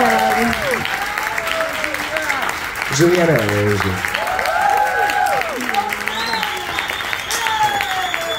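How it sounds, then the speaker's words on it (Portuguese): An audience at a book fair in Funchal applauds with a steady wash of clapping that runs throughout, while people speak over it. "Júlia Ochoa, uma grande salva de palmas."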